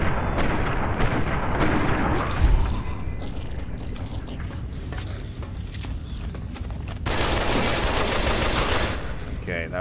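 Sustained gunfire in Fallout: New Vegas inside an alien base mod, a dense, loud fusillade of rapid shots with a sharper burst near the start and a heavier volley late, running continuously with no talk.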